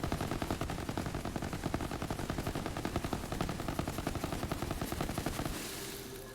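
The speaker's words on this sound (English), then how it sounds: "I shoot saw blades, I see." A gun in Borderlands 3 fires saw blades in a rapid, steady automatic stream of loud, dense shots that runs almost the whole time before cutting off near the end.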